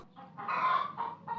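A hen clucks in a few short, close bursts, a quiet cackling call rising into a louder middle phrase and trailing off in brief clucks, with no talking over it.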